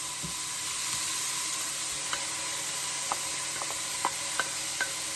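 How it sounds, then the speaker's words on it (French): Grated carrot and zucchini stirred in a hot frying pan, a steady broad sizzle with a few light scraping clicks of the spoon against the pan, close and continuous. "Je vais rajouter les carottes."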